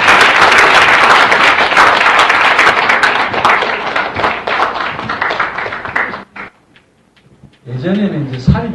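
Loud, dense audience applause at a lecture event welcoming a professor, sustained for about six seconds before fading out; a voice begins speaking near the end.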